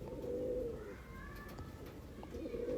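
Andhra pigeons coo in low, soft rolling calls, one drawn-out phrase at the start and another at the end, fairly faint against a steady background hum.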